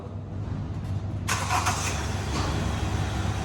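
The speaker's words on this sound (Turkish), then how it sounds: "Şimdi arabamızı çalıştıralım." A Kia Ceed's engine turns over and catches about a second in, then settles into a quiet, steady idle, with no voices.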